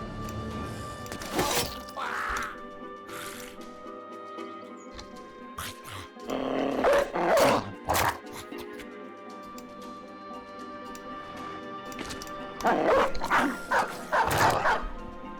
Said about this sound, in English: I guess we'll release more dogs.